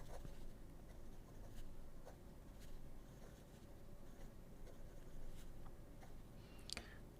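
A Montblanc fountain pen with gold trim and a broad 18-karat gold nib writes on paper, making faint, close scratching strokes with light ticks and pauses against a quiet background hum.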